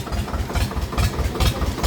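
Swaraj tractor engine idling close by, a loud, low, rhythmic thumping pulse that beats evenly through the short stretch with no talk.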